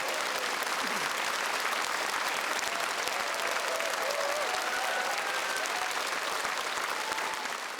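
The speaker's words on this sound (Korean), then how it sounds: "자기한테도 박수 아끼지 말고 한번 쳐주세요." A large audience at a lecture on the fourth industrial revolution breaks into sustained, dense applause that holds steady and loud throughout, with faint crowd murmur underneath.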